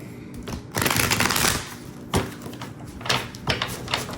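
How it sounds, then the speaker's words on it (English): A deck of cards being shuffled by hand, several bursts of rapid riffling and flicking, loud and close, with short gaps between the bursts. "Let me do a good shuffle."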